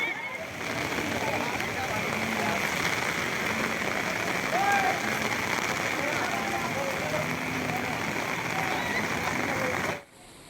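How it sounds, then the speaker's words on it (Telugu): Steady, dense rush of torrential rain falling hard in Jagtial district, Telangana, a continuous hiss with scattered splashes that holds constant for about ten seconds before cutting off. "జగిత్యాల జిల్లాలోనూ కుండపోతగా వర్షం కురుస్తోంది"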